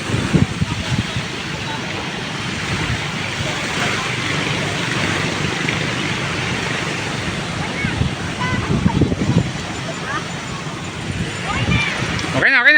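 Ocean waves on a white-sand beach at Liwliwa, San Felipe, Zambales roll in as a steady, loud wash mixed with wind rumble on the microphone, with people talking over it.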